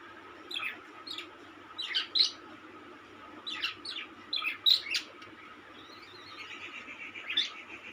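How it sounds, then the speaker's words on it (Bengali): At dawn in a house courtyard, birds let out short, bright chirps in scattered bursts, fairly faint against a quiet background, with a softer trilling call toward the end. "মতি বাড়ির উঠোনে দাঁড়িয়ে পাখির ডাক শুনছিল।"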